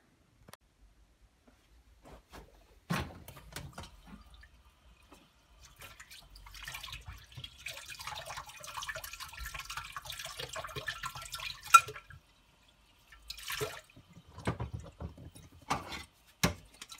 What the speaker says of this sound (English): I'm going to give them a wash in some warm soapy water